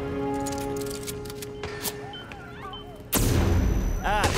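Flashbang grenades in the stealth video game Hitman 3 burst with a sudden loud blast partway through, followed by ringing, rattling game noise over a steady background hum.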